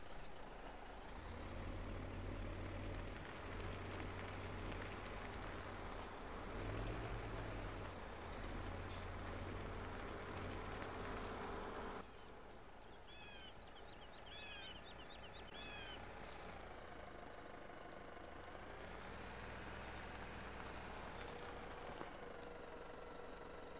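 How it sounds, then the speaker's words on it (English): A typical Irish farmer's truck in a farming video game rumbles along with a steady low engine drone and gear whine, plus a hiss of air brakes midway, continuous and fairly loud. "I'll just jump in my typical Irish farmer's truck here"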